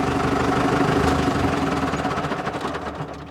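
A Deutz 6006 tractor diesel engine idles with a steady low knocking rumble, close and loud, then fades and winds down as it is switched off near the end.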